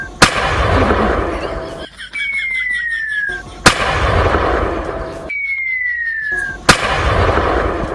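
Firecrackers go off near a home: a rising whistle shrieks before each of three loud, sharp bangs spaced a few seconds apart. Each blast leaves a crackling, noisy tail.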